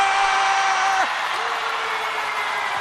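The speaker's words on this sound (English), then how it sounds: "The crowd is going absolutely nuts." At a WNBA basketball game between New York Liberty and Seattle Storm, an arena crowd roars and applauds loudly and continuously, with a horn-like tone sounding over the din.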